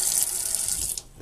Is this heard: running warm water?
yes